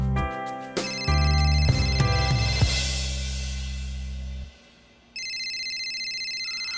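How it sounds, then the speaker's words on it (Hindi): An electronic phone ringtone plays a bright melodic tune over a low sustained tone, then pauses briefly before a high repeating chime begins. "डॉक्टर साहब का फोन आ गया"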